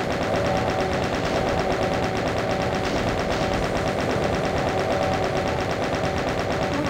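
Chaingunner enemies in Doom 2 fire machine guns on a suburban map, producing a dense, unbroken stream of rapid automatic gunfire, loud and steady for the whole stretch with no talking.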